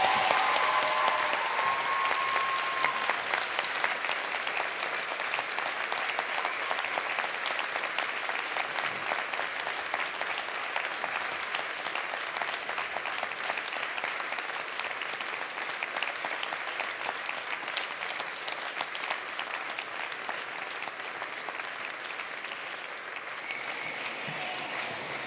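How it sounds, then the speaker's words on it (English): At a University of Alberta convocation for education and law graduates, a large hall of graduates applauds family and friends, with sustained, thick applause running unbroken for over twenty seconds at a steady, full level. "give them a huge round of applause."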